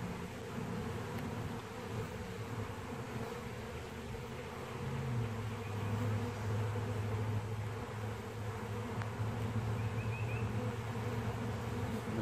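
Honey bees buzz steadily as a hive is opened and its frames inspected, a dense, close, continuous hum with a slight swell partway through.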